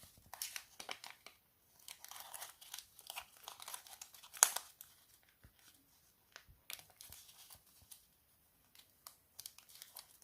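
Paper being folded by hand to make a polygon spinning top, with soft intermittent crinkles, creases and rustles close by, some sharper crisp snaps between quiet pauses.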